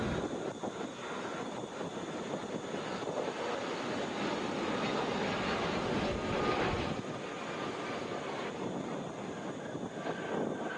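A Southwest Boeing 737 jet at Atlanta airport, heading to Little Rock, makes a broad continuous engine roar heard from outside at a distance, steady and loud throughout, with some wind noise on the microphone.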